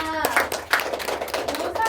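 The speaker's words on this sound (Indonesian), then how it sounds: "tepuk tangan untuk Mbak Eka" Brief, sparse clapping for a woman named Eka in a classroom-style session, a few hands tapping unevenly over a steady murmur of children's voices and chatter, fairly close and moderately loud.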